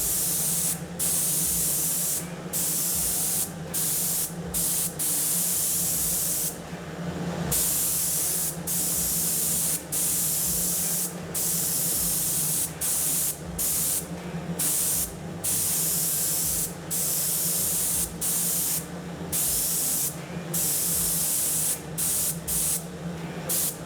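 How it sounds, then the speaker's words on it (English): DuraCoat finish sprayed onto firearm parts as a steady, loud airy hiss, broken by brief, regular pauses between passes and one longer gap early on. "Okay, now that we sprayed, we could let it sit overnight"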